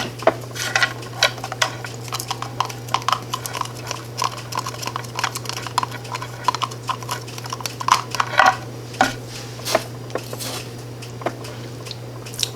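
A spoon scoops coffee grounds into a glass jar for rustic Christmas craft jars, giving repeated light clinks and scrapes of metal on glass over a steady low hum.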